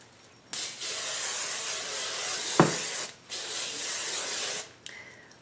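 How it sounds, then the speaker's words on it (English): Sexy Hair Healthy Sexy Hairspray is sprayed onto curled hair in two long, close, steady hissing bursts separated by a short pause, with a soft tap between and a brief third puff at the end. "I am going to spray it lightly now. This is the Sexy Hair Healthy Sexy Hairspray,"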